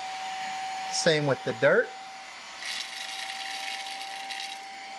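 A Fanttik handheld car vacuum running on eco mode picks up sand and dirt, a steady mid-level whine with a constant tone throughout, briefly under a man's speech.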